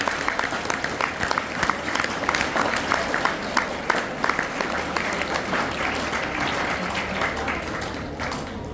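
An audience at a school farewell claps steadily for a guest being honoured, a dense, sustained patter of many hands that tapers slightly near the end.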